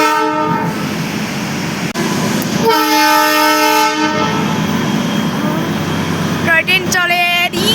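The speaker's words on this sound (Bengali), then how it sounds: "দেখো টয় ট্রেন" The Darjeeling toy train rumbles past nearby in town, a steady rolling clatter broken by a loud, sustained horn blast and short whistle toots toward the end.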